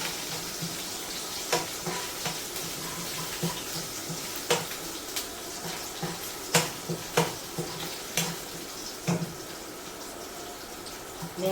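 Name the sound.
green chillies frying in oil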